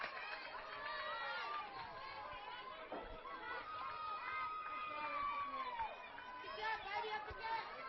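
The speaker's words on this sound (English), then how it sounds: "The Abilene Christian dugout is making some noise, trying to cheer on the freshman White." Softball dugout players at an Abilene Christian game chattering and calling out encouragement, a busy layer of overlapping voices and shouts heard at a distance beneath a commentator's steady talk.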